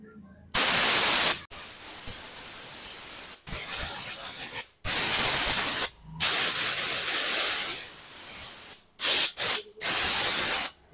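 Compressed air sprays in loud, hissing bursts through a Bajaj Pulsar 150 BS6 fuel pump filter during petrol cleaning, several long blasts broken by short pauses and quick puffs near the end, with no talk.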